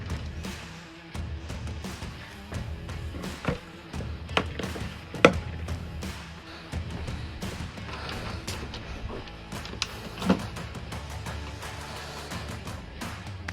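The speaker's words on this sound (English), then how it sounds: "Here's how the lid comes off." Plastic lid being unclipped and lifted off a Ryobi project vac, scattered taps, thumps and clunks spread irregularly over several seconds, with two sharper knocks standing out close by.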